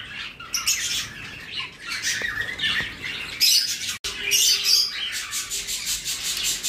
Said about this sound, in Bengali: যে টিপিক্যাল একটা খ্যাঁস খ্যাঁস আওয়াজ করছে গলা দিয়ে। ককটেলের বাচ্চারা খাবার চাওয়ার সময় ওই রকম আওয়াজ করে